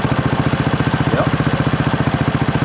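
A 1960s Honda CL90 motorcycle engine runs close and loud at a steady idle, its rapid even exhaust pulses thumping without a break.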